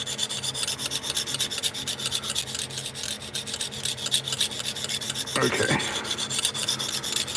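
Steady coarse rasping strokes of a blade worked across a coarse grit sharpening stone, continuous and close, with a brief louder scrape near the end.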